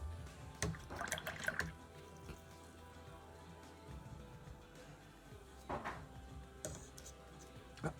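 Watercolor brush rinsed in a jar of clean water while painting a rooster, giving a few brief swishing, dripping splashes in short bursts separated by quiet stretches, close and fairly soft.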